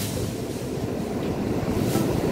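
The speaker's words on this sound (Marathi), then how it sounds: "आणि हे बघा लाट आली आहे मोठी." A large sea wave rolls in on a white-sand Konkan beach at Shiroda, a steady broad roar of surf and wind, continuous and close, with no talking.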